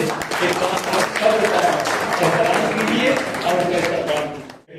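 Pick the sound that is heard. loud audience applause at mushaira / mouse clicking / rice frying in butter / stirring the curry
loud audience applause at mushaira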